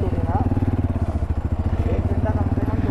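A Hero Impulse motorcycle engine, fitted with a larger roughly 200–225 cc engine, chugs loudly with a steady rapid thumping pulse while riding a rocky off-road trail in Gurgaon, close and continuous throughout.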